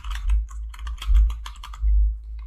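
Rapid clacking keystrokes on a computer keyboard, close and crisp, in irregular clusters with short pauses, no talking.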